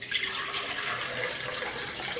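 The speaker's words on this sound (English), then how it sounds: "pour the water in the blender here" Water pours into a blender jar for a meal replacement shake, a steady splashing, gurgling stream heard up close and alone for a couple of seconds.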